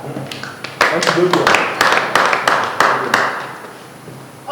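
A classroom audience claps for a participant in a burst of uneven, close hand claps that run for a few seconds and thin out, with a voice speaking over them.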